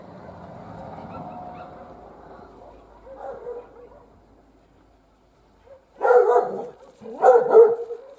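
Dogs bark outdoors in a frosty village, a few distant yelps early on, then two loud close bursts of barking after a quiet pause.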